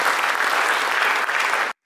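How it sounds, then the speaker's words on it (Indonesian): A congregation applauds during a church worship service, a loud, dense and steady wash of clapping that runs unbroken and then cuts off abruptly. "Beri tepuk tangan bagi Tuhan"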